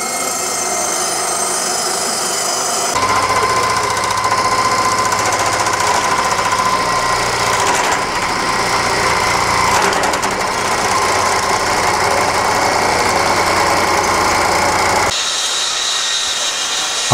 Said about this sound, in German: Säge- und Fräsarbeiten können nur mit großen Handmaschinen ausgeführt werden.